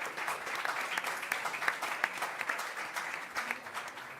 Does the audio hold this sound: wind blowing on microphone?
no